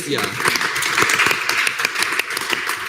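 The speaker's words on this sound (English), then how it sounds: "But give yourself a round of applause." Brief group applause at a student government senate meeting, a burst of many hands clapping close by, mixed with voices talking over it.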